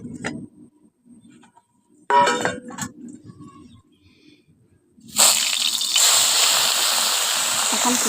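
Chanda fish from the sea go into hot oil in a wok with a sudden loud sizzle that then holds as a steady, crackling hiss. Before that come a few clinks and faint kitchen sounds.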